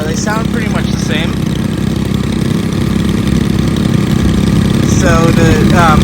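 Stihl KM111R trimmer engine running at a steady idle, a loud continuous close-up drone, while a person talks briefly over it at the start and end.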